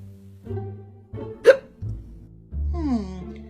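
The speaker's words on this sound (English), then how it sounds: "They must be very strong hiccups if they lasted that long." Strong cartoon hiccups from Oddball, a young girl: one sharp, loud hiccup bursts out in the middle between stretches of background music, with no talking.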